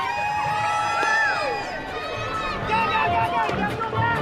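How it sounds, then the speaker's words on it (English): Children race to a row of set-up cones while a crowd shouts and cheers them on, a steady lively roar of voices with excited high-pitched calls rising throughout. "let's cheer them on"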